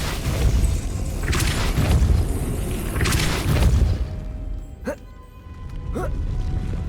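A Depulso spell is cast in Hogwarts Legacy: a deep booming blast with rumbling low thuds over the first four seconds, then two sharp whooshing zips, followed by quieter game ambience.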